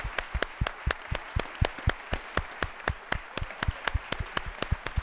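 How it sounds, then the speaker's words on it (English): A small audience at a university choral concert in a theater applauds the performing students, with distinct individual claps in an uneven, moderately loud patter that holds steady for five seconds, with no talk. "a big round of applause for the students who performed this work today"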